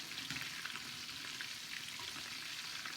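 Fish pakoras frying in hot oil give a steady, dense sizzle with crackling bubbles, continuous and close for the full three seconds with no talking.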